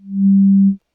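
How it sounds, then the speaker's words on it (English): Two sine wave oscillators in the Vital synthesizer sound together as one pure, smooth low tone that swells in, holds steady and stops cleanly after under a second. "So now we have 2 sine waves happening."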